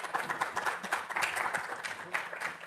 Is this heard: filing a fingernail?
no